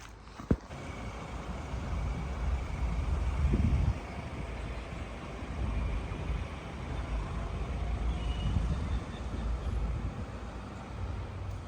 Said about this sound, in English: So I'm going to bring the ute around the back.